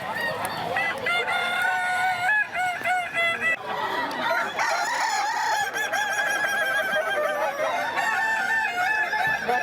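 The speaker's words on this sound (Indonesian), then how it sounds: "Puluhan ayam dengan postur gempal dan jengger menawan ini berkokok saling sahutan." Dozens of stocky Kukuak Balengke roosters from Solok crowing at a contest, long tiered calls overlapping and answering one another continuously, loud and close with clucking in between.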